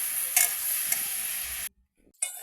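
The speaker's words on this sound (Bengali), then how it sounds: "আমি পেঁয়াজটা ভালো করে ভাজবো। সেই পেঁয়াজে আমি টমেটোটা ফেলে দিয়েছি।" Onion and tomato fry and get stirred in oil for a goat meat curry, a steady close sizzle with scraping stirs, cut off by a brief silence before the sizzle returns.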